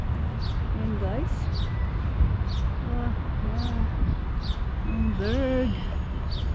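Birds chirp in a Montreal park garden, with short, high, repeated calls scattered through the clip. They stay faint beneath a person talking close by over steady outdoor background noise.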